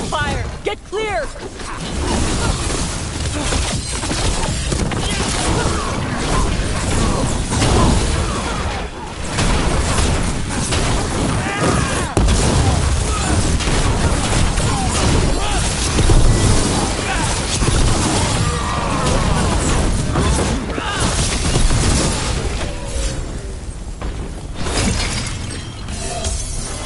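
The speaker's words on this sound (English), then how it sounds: "Cannon fire! Get clear!" Cannon fire explodes in the video game Dragon Age: The Veilguard, with dense, continuous booms, shattering crashes and whooshes filling the scene loudly, with voices talking amid the battle.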